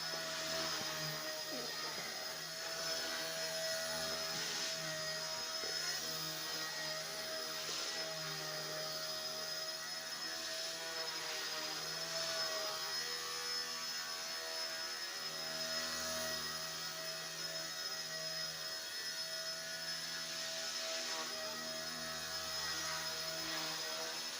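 A low-cost helicopter in flight gives a steady, unbroken mechanical whine and hum with sustained tonal drone, moderately faint and constant throughout, with no talk over it.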